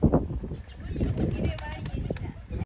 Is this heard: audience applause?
no